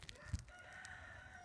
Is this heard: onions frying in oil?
no